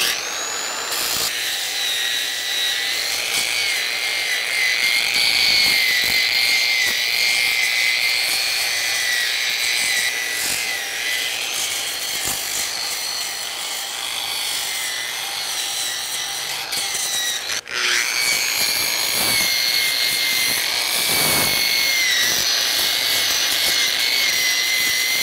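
A variable-speed power sander with an 80 grit pad grinds on marble at low speed, a continuous loud whining drone with gritty scraping, briefly dipping once before running on steadily.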